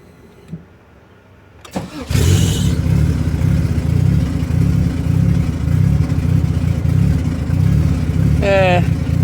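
A B20V turbo car engine starts and then idles roughly and loudly at close range, with a steady uneven low rumble and a brief higher whine near the end.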